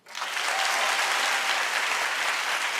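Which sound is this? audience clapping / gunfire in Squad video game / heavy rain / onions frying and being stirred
audience clapping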